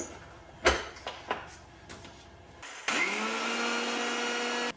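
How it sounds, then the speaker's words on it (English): Electric grinder powdering yellow sesame seeds, starting after a few light clicks and knocks and then running as a loud, steady high-pitched whir until the end. "I grind the yellow sesame seeds into fine powder first, as it's cooled down now."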